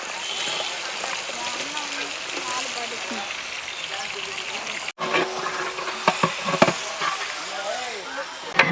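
Onions fry in oil in a large pot of 15 kg chicken dum biryani, giving a continuous crackling sizzle with stirring, close by, while a person talks over it.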